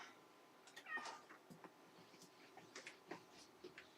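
A cat meows several times at close range in a workshop, short vocal calls scattered over a quiet background.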